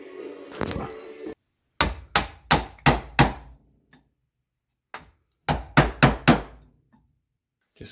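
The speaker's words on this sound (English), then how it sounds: "Just cleaning out a couple of the mortises here with my chisel" A chisel, struck in sharp rhythmic blows, cleans out mortises in wood for a table: a burst of five crisp knocks, a pause, then four more, loud and close with silence between.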